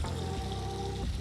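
Water pouring and flowing at an infinity edge pool beside a lake-view luxury home, a steady splashing wash with a faint tonal hum running under it.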